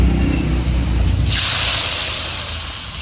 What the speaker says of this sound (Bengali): এবার আলুর মধ্যে পরিমাণ মতো জল দেব